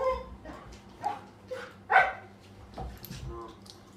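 A pet dog named Zulu barks three or four times close by, short sharp yaps spaced about a second apart over a low room hum.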